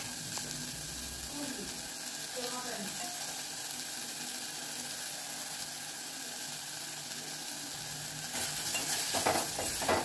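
Chopped tomato with salt, chili powder and turmeric fries in a pan with a low, steady sizzle, a few metallic spoon scrapes, and a louder burst of frying near the end.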